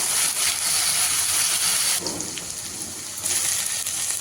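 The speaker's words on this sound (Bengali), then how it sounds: "এবারে দিয়ে দেব পেঁয়াজ বাটা আর তিন চার কোয়া রসুন বাটা" Onion and garlic paste frying in a pan of hot oil, a dense steady sizzle that dips briefly midway before rising again.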